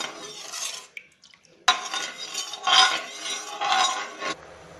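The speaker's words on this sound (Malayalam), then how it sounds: "നന്നായിട്ട് ഇളക്കി കൊടുക്കുക" A spoon stirs homemade tomato sauce in a pan, making close scraping and clinking strokes in several distinct bursts separated by short pauses, with no talking over it.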